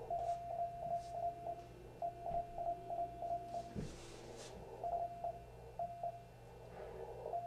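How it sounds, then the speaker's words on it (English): Morse code practice from the amateur radio station W1AW, received over a ham radio set, comes through as a faint steady tone keyed in short dits and longer dahs under constant hum and static, with no talking. "This is Morse code practice from W1AW"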